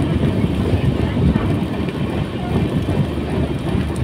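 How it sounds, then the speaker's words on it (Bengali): Padatik Express rounds a curve at speed, heard from inside the last coach: a loud, steady rumbling roar with faint rhythmic wheel clatter running throughout and some talk mixed in. "বোঝা যাচ্ছে নাকি ট্রেনটা সামনে একটা কার্ভ নিচ্ছে"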